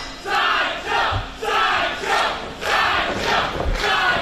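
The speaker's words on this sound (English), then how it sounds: "You hear the crowd reaction for Sideshow, not surprising whatsoever." A wrestling crowd at an indoor show roars and yells in repeated surging waves, loud and sustained, with brief low thumps underneath and no clear talk over it.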